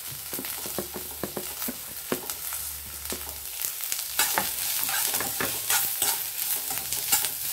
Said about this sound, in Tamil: இதை நல்லா வதக்கி விட்டுருணும்